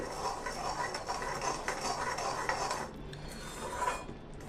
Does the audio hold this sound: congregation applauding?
no